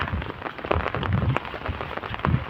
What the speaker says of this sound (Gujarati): તો યાર વરસાદ જબરો આ છે